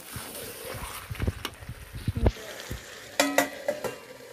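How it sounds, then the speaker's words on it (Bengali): Country chicken pieces sautéing in spiced masala for a Bengali curry, crackling softly as a spoon scrapes and stirs the pan in uneven bursts, with a few sharper clanks of the lid or utensil toward the end. "এইভাবে 1 মিনিট পরে পরে ঢাকনা খুলে খুলে নেড়ে চেড়ে টোটাল 20 থেকে 25 মিনিট সময় নিয়ে কষিয়ে নেব"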